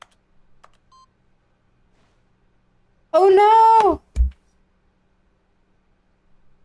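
A telephone rings in the video game The Stanley Parable: one short burst of bright electronic ring tones, close and clear, followed by a brief thump, with a short exclaimed voice and near silence around it.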